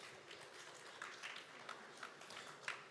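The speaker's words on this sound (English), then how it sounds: "Please, a round of applause." Soft, distant applause from the audience at the NIES 2025 opening ceremony, a steady patter of many hands clapping at low volume with a few sharper claps standing out.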